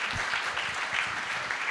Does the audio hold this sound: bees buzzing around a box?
no